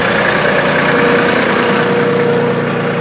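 A Workmaster 25 compact tractor engine idles steadily and close, a continuous even rumble with a faint hum and no talk over it.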